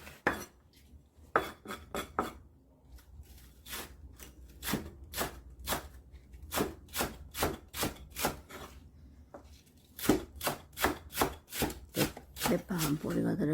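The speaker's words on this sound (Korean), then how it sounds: "대파 한 뿌리 썰이고 있습니다." A knife chops a green onion (daepa) on a cutting board in a home kitchen, a close series of crisp, evenly spaced taps in quick rhythmic bursts with short pauses between runs.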